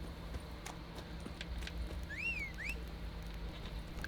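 Horse hooves in the video game The Witcher 3 clip-clop in a steady galloping rhythm over a low game ambience, with a brief whistling tone partway through.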